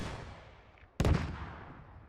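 A tandem anti-tank rocket fires at a BMP in the tactical shooter Squad. A single sudden loud blast cuts through low ambient rumble and then decays over a second, with no one talking.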